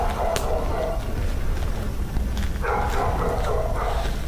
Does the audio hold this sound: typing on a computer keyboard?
no